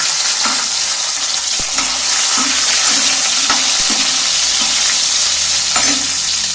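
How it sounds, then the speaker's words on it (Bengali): Ginger pieces and chopped tomatoes frying in a pan, with a loud, steady broadband sizzle throughout and occasional soft stirring scrapes. "এবার এখানে টমেটম কেটে রেখেছি দুটো টমেটম কাটাগুলো তুলে দিচ্ছি"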